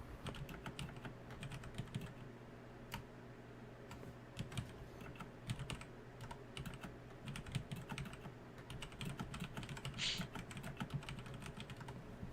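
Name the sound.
typing on a computer keyboard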